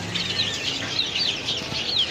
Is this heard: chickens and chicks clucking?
yes